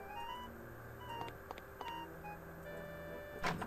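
Telephone dialing beeps from the Maniac Mansion Deluxe video game: a string of short electronic tones in an irregular sequence, ending with a brighter burst, heard alone with no talk.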